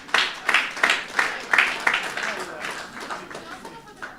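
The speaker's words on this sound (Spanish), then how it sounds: "Um aplauso para nossa irmã Valerie com sua ajudante." Congregation applause at a church gathering, bursts of clapping with rhythmic pulses early on that settle into steadier, softer clapping, heard moderately close.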